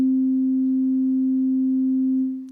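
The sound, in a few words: synthesizer oscillator playing a sine wave in Ableton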